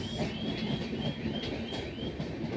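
The 19037 Barauni–Bandra Terminus Avadh Express arriving at Firozabad station, a steady rumble of rolling wagons with rhythmic wheel clatter and faint high squeals, continuous and fairly close.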